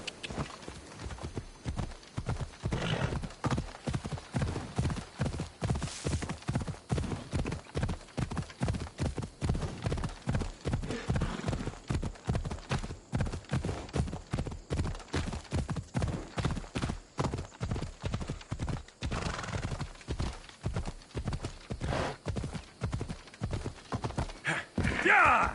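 Horse galloping in Assassin's Creed Odyssey, a steady rapid clip-clop of hooves running throughout, loud and close, with a brief whinny near the end.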